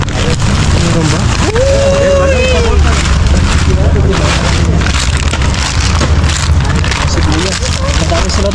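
Steady rain falls outdoors on a street in Spain, a continuous broadband hiss running through the whole stretch, with people talking nearby and passing sounds mixed in.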